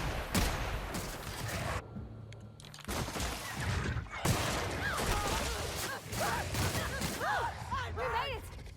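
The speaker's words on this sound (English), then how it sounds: "this is me testing my audio over gunshots." Gunfire in The Outer Worlds, rapid bursts of shots popping in clusters through a busy firefight, fairly faint, with voices talking over the shooting.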